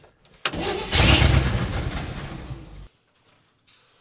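A 1970 Chevrolet K10 4x4 pickup, abandoned for 26 years, cranks hard for about two seconds under the starter without catching, then falls silent before a short click and brief rattle.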